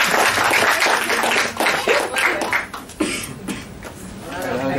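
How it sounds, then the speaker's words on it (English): An audience at a forum on media ethics and elections in Southeast Asia claps for the panelists, a moderate patter of applause with a few coughs and voices mixed in. "We give them applause again."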